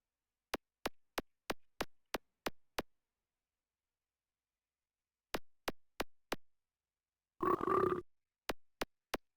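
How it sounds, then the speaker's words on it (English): An in-game burp from the Amiga game Wackman: one throaty, tonal burst near the end of a steady run of sharp, evenly spaced electronic ticks, with silence between the groups of ticks. "There's a quad of burp right there."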